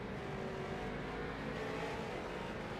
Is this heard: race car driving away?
yes